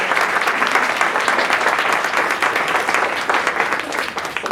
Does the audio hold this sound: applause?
yes